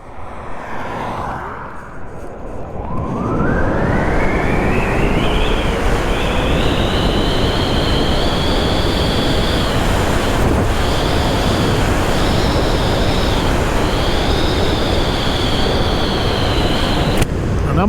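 Electric motorcycle e-bike launching at full throttle on a quarter-mile run, a loud rising motor whine that climbs in pitch and then holds high with brief dips, over heavy wind and road rush.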